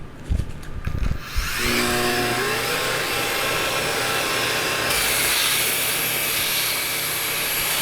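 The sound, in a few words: big power sander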